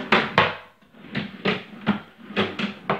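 A newly assembled wooden drawer slides open and shut repeatedly, about eight short scraping, rumbling strokes in quick succession, close and fairly loud with no voices.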